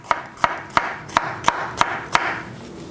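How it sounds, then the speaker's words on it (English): A knife chopping bell peppers on a cutting board, seven evenly spaced sharp chops roughly a third of a second apart, close and clear, with no talk. "we're just gonna kind of chop them up relatively fine"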